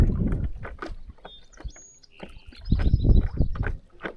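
A canoe is paddled on a lake, with a series of irregular splashes and dips as the paddle enters the water. Faint whistling bird calls sound in the background, and no one speaks.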